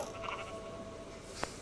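Sheep bleating in the Minecraft video game, a couple of soft, wavering bleats in the first half followed by a brief sharper call near the end, all at low level against a steady game background hum.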